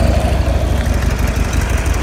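A 2009 Buell XB12S Lightning with a 1200cc V-twin engine runs steadily at close range, giving a loud, continuous, throbbing rumble with no talk over it.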